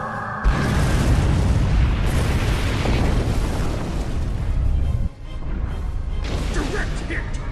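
A starship weapon strike in the space combat game Star Trek Online erupts as a loud, sustained explosion with a deep rumbling boom and crackling debris, briefly dipping before rolling on for several seconds.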